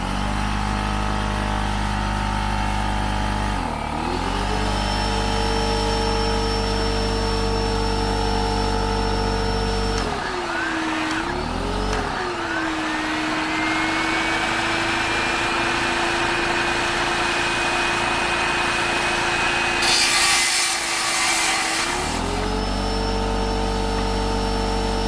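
An air compressor, shop vac and circular saw all run together off a portable power station, a loud steady motor drone whose pitch dips and bogs down as loads start, with a brief whine partway through.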